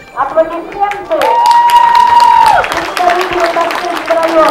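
Applause from the crowd at a horse sports games event at the Orenburg hippodrome, greeting the Tashlinsky district team; clapping rises under a loud sustained tone from the public address, with the announcer's voice heard over it.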